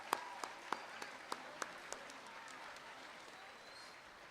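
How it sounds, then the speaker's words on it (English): Applause from a high school audience at a National Honor Society induction ceremony, faint and distant, with a few sharper claps standing out early before the sound thins into a soft fading patter. "Let's give them a round of applause."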